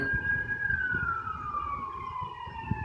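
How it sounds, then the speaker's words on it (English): A siren wails steadily with a slowly falling pitch as an emergency vehicle passes, loud over low traffic rumble. "the sirens"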